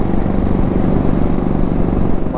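Hero Splendor motorcycle engine on a night ride on a mountain road, a steady, loud, close drone throughout with no talking.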